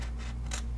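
Scissors snipping through paper card while making a window treat box, a few close crisp cuts over a steady low hum.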